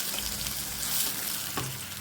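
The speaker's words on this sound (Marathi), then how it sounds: "हे स्मॅश केलेलं गंगाफळ आपण या तुपात चांगलं भाजून घेऊया।" Mashed ash gourd (gangaphal) roasting in ghee in a pan gives a steady, soft sizzle and crackle throughout, close and continuous with no talking.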